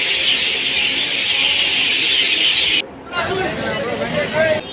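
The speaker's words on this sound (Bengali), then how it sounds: "সন্ধ্যা হয়ে এসেছে আর এখানে স্টেশনের বাইরে গাছগুলোতে পাখিরা বড় সুন্দর কিচিরমিচির করছে।" A dense chorus of birds chirps in the trees outside a station at dusk in Mayapur. The chatter runs steady and loud, breaks off briefly, then resumes a little thinner under a faint background murmur.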